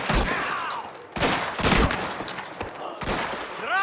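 Rapid bursts of gunfire in the video game Mafia: The Old Country crack out in loud, close volleys with brief gaps between them, and there is no talking.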